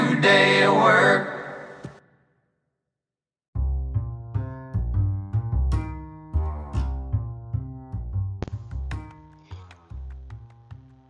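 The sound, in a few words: song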